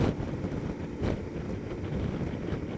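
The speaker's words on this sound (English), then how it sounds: "Probably bikes with no boxes on are not getting as much of this wind buffeting as I am." Strong gusty wind buffets the helmet-mounted mic while riding a KTM 1290 Adventure S fitted with luggage boxes, a loud continuous roar with surging bursts throughout.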